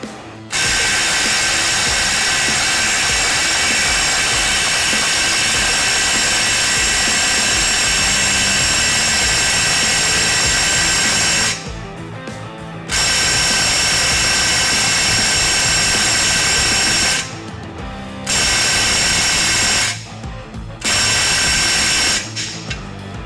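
An impact driver, rated at 166 foot-pounds, hammers through a 270 foot-pound torque test. Loud, continuous rattling bursts run close up, broken by a few short pauses.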